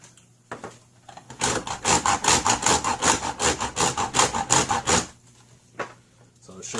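Chaga mushroom being ground down into fine powder, a close rhythmic rasping with quick repeated strokes lasting about four seconds, then a short scrape after a pause.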